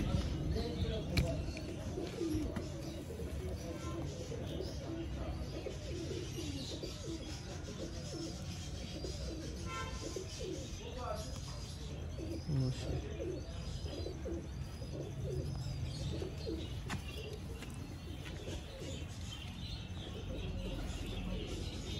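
Soft, repeated coos from nearby Sialkoti pearl-marked pigeons amid faint chirps and background voices, a continuous low murmur of a loft.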